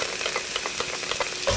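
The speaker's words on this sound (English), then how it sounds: "I'm gonna add my finely minced garlic" Finely minced garlic and ginger sizzling in a hot pan for chicken soup, a continuous crackling fry with quick stirring scrapes, close and moderately loud.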